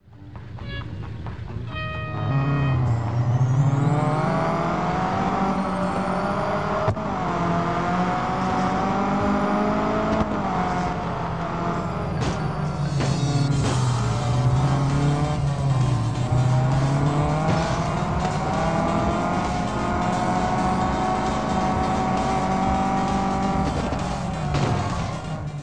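Race cars in the mobile game Real Racing 3, played on an Android TV box: a continuous roaring engine note rising and falling through gear changes, with tire squeal and skids, steady and loud with no talk.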